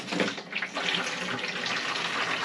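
Rainwater that has sat as bilge water in a sailing yacht's fuel tank runs out in a steady, close splashing stream, with no talk over it.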